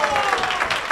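A pool hall crowd bursts into applause and cheering after a carom shot sinks the 9 ball in a Premier League Pool final. The applause is loud, dense and sustained across the whole moment, with a commentator's voice partly audible underneath.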